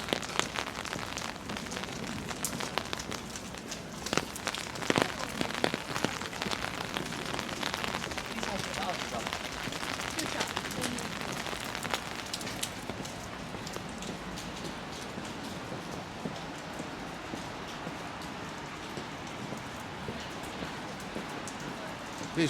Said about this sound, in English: Oh, I think it's raining harder.